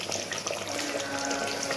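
Water poured from a cup into a pot of biryani being prepared at home, a steady close splashing stream that runs continuously without talk.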